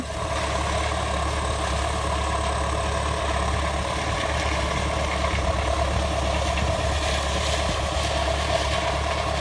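A John Deere 5076E tractor engine labours steadily while pulling a six-disc plough through hard paddy-field soil, a loud, continuous low diesel drone with no pauses or voices throughout.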